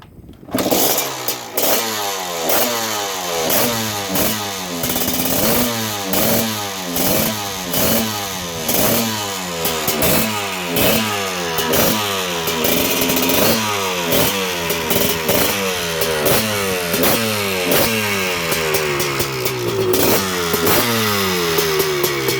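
A Honda ATC three-wheeler trike engine fires up and keeps running, a loud, close, rapid two-stroke-style putter with repeated throttle blips and revving surges throughout, no voices.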